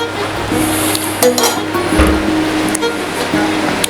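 Paella rice with Iberian pork and wild mushrooms simmering in a pan, giving a steady close sizzle and bubbling with a few light metallic clinks of a spoon or pan over it.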